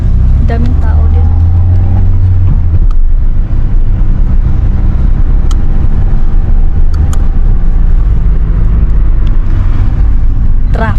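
Loud road traffic rumbles steadily as cars pass close by, with engine drone and tyre noise swelling and easing and occasional sharper sounds breaking through.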